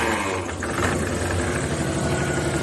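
A car engine with a bad ignition coil idles roughly and steadily, a close, continuous mid-pitched rumble heard alone.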